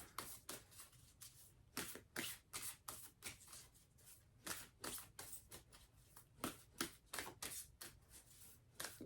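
Oracle cards being shuffled by hand, a string of quick crisp riffling bursts in an irregular rhythm, close and fairly faint, with no voices.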